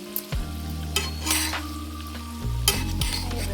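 Jackfruit pakoras made with ripe jackfruit juice frying in hot oil, a close, loud sizzle with scraping and clinks as each one is turned, and no voices.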